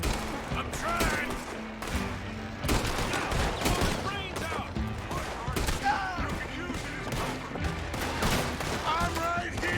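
Red Dead Redemption 2 gunfire rattles in a dense, continuous fusillade of overlapping shots, with voices shouting through the chaotic firefight.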